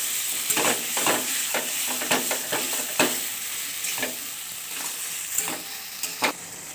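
Pigeon meat sautéing in a pan for a curry, with a steady close sizzle and repeated scraping strokes of a spoon stirring at an irregular rhythm, no voices.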